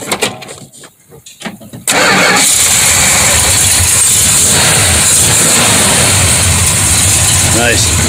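After a few seconds of quiet with faint sounds, a 1967 Dodge Coronet engine cranks and catches, then settles into a loud, steady rumbling idle close by.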